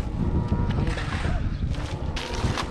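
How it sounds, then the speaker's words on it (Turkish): Strong wind buffets the microphone outdoors at a village shelter build, a steady rumbling roar with gusty swells and no pauses. "rüzgar çıktı ya"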